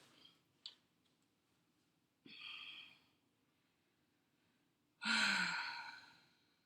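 Heavy, breathy exhales from a person during a stairwell burpee workout, two long rushing breaths with a sharper gasp-like one at the start, close and fairly loud over a quiet room hum.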